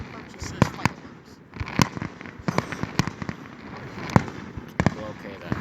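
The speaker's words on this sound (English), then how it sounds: "But for right now, we're just gonna see some fireworks." Fireworks burst outdoors in a quick, irregular series of sharp bangs and crackles, some close and loud, with voices talking faintly between the pops.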